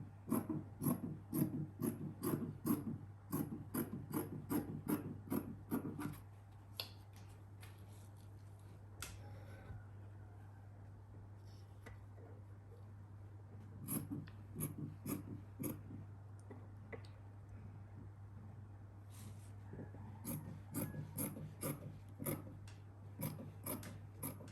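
Scissors cut through trouser fabric in rapid, regular snips, crisp and close, coming in bursts with a quieter pause in the middle, over a low steady hum.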